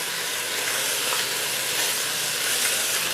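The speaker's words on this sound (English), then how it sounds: "Now I'm gonna caramelize this pork." Smoked pork chunks caramelize in a hot pan for chili verde, sizzling and crackling in a steady, loud frying hiss that goes on without pause.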